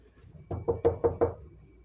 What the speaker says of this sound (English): And just then, another knock at the door comes.